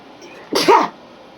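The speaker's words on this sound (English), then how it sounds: "I feel a sneeze coming on." A single sharp sneeze bursts out close by, then quiet.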